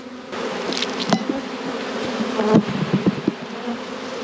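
A dense, steady buzz of many honey bees fills the air close by an open hive, with individual insects droning louder as they pass near.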